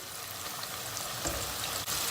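Floured chicken livers dropped into hot oil, frying with a steady close sizzle and crackle that holds evenly throughout, with no talking.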